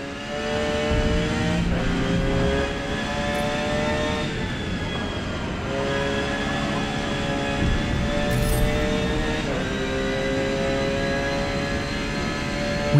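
A GT-style race car laps a track in Forza Motorsport, its engine droning loud and steady throughout, rising in pitch as it accelerates and dipping briefly at several gear changes.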